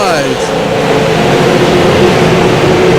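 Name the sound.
race cars accelerating at a green flag restart, Lucas Oil Raceway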